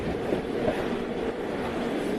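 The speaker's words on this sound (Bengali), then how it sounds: "ঝমাঝম শব্দ, ট্রেনটা বেশ চলছে" A steady low rumble with rhythmic rattling, like a train rolling along the tracks, continuous and fairly close throughout.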